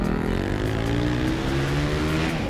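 Supermoto motorcycle ridden hard on a race track, its engine loud and close throughout, revving with steady, rising harmonic pitch and no pauses.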